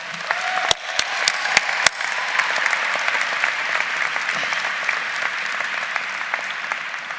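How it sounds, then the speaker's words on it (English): Audience applause at a university winter commencement, a large crowd clapping steadily and loudly throughout, with a few sharp louder claps near the start. "Graduates, let's give them a round of applause."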